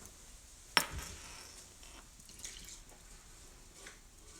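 Water is poured over rice in a pot to rinse it: a sharp clink at the start, then a faint, steady trickle and splash close by, with no talk.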